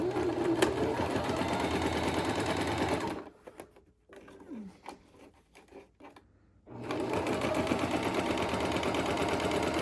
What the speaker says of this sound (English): I'm going to do a little straight stitch here.